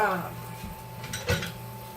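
Cauliflower and broccoli florets dropped into a pan for a teriyaki chicken stir fry, giving a brief clatter and a soft clink against the pan under a steady background hum.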